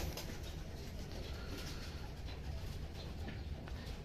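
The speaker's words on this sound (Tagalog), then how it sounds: "Yung ibon ayaw nang lumayas dun sa inuminan." A racing pigeon coos at a drinker during a long-distance derby, soft and intermittent beneath a steady wash of broadband outdoor noise.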